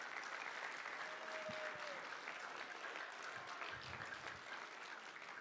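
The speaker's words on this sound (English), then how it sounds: "If we can give them a round of applause." The audience applauds after a school play, with steady, even clapping heard quietly and at a distance throughout, plus a few faint voices underneath.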